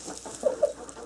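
Two short, soft clucks come from hens in a nesting box against a quiet background, and no one speaks.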